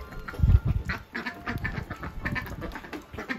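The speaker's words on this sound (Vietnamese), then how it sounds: "trời mưa vậy mấy con vịt nó khoái ra ngoài tắm mưa lắm" Ducks out in the rain quack in irregular bursts, loudest early on, with rainfall hissing steadily underneath.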